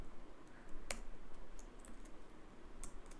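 Light clicking keystrokes on a computer keyboard while code is typed, soft irregular taps at close range with one sharper click.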